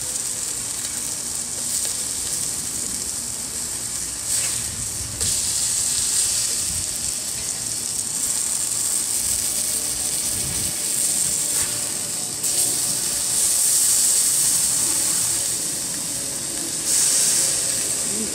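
Burgers frying in a cast iron skillet on a solar cooker, a steady, fairly loud close sizzle with hissing that runs throughout, with occasional shifts as the food is moved around.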